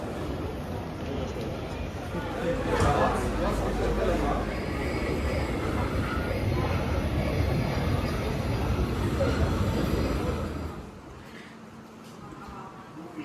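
A train between Berlin and Hamburg in Germany rumbles along steadily with broadband rolling noise and a faint high whine, then the noise drops off sharply near the end.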